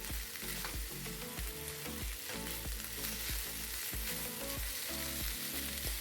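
Beef and mushrooms in mushroom soy sauce fry over high heat, a loud continuous sizzle with rhythmic stirring scrapes about twice a second and no talk.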